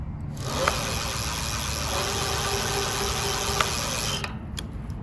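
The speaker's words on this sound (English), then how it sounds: "here's what the drivetrain sounds like using the throttle" Kakuka K70 e-bike drivetrain driven by its throttle motor, a continuous close whirring drone with a broad mechanical hum, a couple of faint clicks, running steadily and then cutting off near the end.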